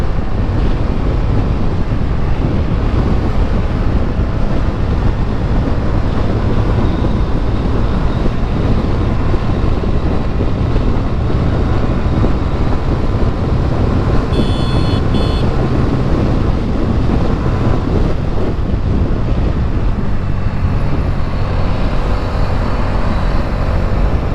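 Steady, loud wind rush buffets the microphone while riding a Honda Hornet 125 motorcycle at speed on an empty road, with engine drone buried underneath, continuous and unbroken throughout.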